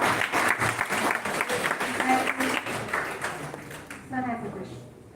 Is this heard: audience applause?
yes